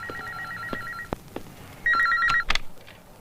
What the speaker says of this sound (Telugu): ఫోన్ చేయవయ్యా రేణుగుంటకి